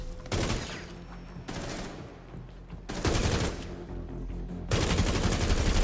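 Rapid bursts of automatic gunfire from Rainbow Six Siege, loud and close, arriving in several separate volleys with short pauses between them and no talking.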